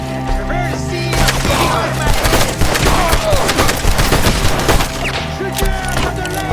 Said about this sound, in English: Shoot that bastard off his branch!